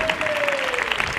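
An audience at an art centre event claps to welcome a guest, with a brief burst of dense, steady applause from a crowd in a hall.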